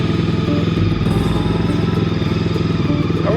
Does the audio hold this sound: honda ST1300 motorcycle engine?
yes